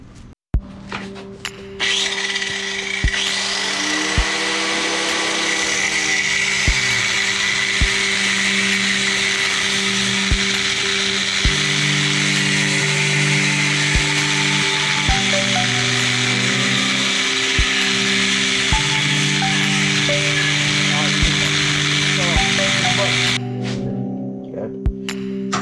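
A power tool cuts metal pieces for a rat rod car hauler trailer build, with the stock held to a table by a C-clamp. It gives a loud, steady whine that runs for about twenty seconds and then stops, and it sounds close.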